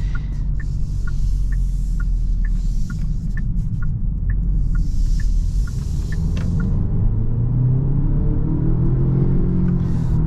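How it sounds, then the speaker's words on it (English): Genesis G70 2.0t, a 2023 model, accelerates with a steady low engine and road rumble heard from inside the cabin, while a repeating chime ticks over the first part. "So, for instance, this acceleration, I needed a little bit more power, but the car was confused."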